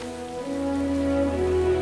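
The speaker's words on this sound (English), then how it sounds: "They have to kiss in the rain." Steady rain falls in a romantic kissing scene from the 2004 movie 50 First Dates. It makes a continuous even hiss under sustained musical tones.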